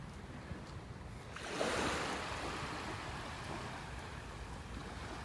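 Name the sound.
waves and wind on a beach in North Naples, Florida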